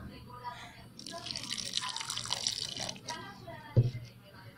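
Water is poured into corn masa dough for gorditas, a splashing trickle lasting a couple of seconds, followed by a short thump near the end, with a voice talking through it.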